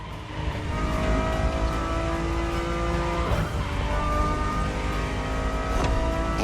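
A sports car in the racing game The Crew Motorfest revs hard, its engine note climbing and swelling with brief dips between pulls, loud and up close with no talking.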